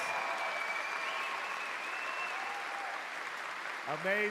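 A large audience at a Gamescom 2026 presentation claps continuously. The applause stays steady, and a brief voice rises out of it at the very end.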